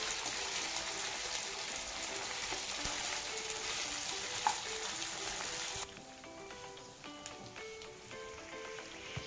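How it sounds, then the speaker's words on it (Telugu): Ginger garlic paste frying in a pan for chicken liver fry, a dense, even crackling sizzle like light rain that drops to a quieter, sparser frying hiss partway through. "అల్లం వెల్లుల్లి పేస్ట్ స్మెల్ పోయేంత వరకు ఫ్రై చేసుకోవాలి"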